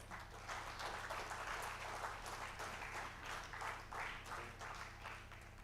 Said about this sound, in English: And a big round of applause.